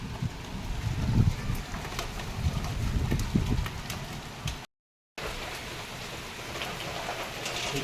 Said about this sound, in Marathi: इथं पाऊस पडतोय बेडरूमच्या खिडकीमध्ये.